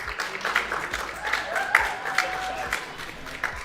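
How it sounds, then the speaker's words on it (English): Audience applause in a combat robotics tournament arena, a moderate crowd clapping steadily with some cheering and whistles, fairly distant and sustained throughout. "round of applause if you think Super Smash Power"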